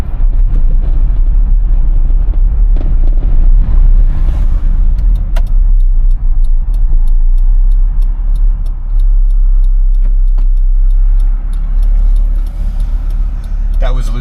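An 1980s pickup truck drives along, its engine drone loud and constant from inside the cab, with faint ticking and rattles over the low rumble.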